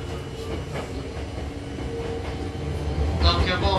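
Hankyu Kobe Line train, set 7023F, running between Osaka-Umeda and Juso, with a steady low rumble of wheels and motors throughout and a brief higher squeal of rails near the end.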